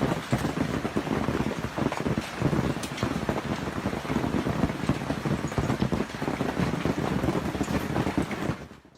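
Hailstones about 2 inches across, bigger than golf balls, pelt down during a January 2020 storm in Canberra, making a dense, loud, continuous clatter and roar that runs steadily and then cuts off abruptly at the end.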